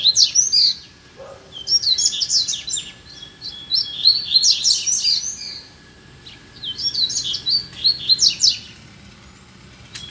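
A double-collared seedeater (coleiro) sings on a street, perched on a cage, in bright rapid warbling phrases repeated in several bursts with short pauses, loud and close over a quiet background hum.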